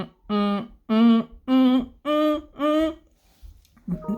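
A voice sings five sustained tones in a row, each held about half a second at a different pitch, clear and close with short gaps between, followed by a brief spoken sound.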